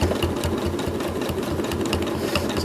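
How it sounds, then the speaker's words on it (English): A sewing machine stitching a quilt runs in a steady, rapid rhythmic chatter of needle strokes throughout, moderately loud and close, with no voices. "It's always good to learn the sound of your machine"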